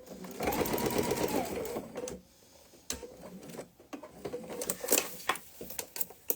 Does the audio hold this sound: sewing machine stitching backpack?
yes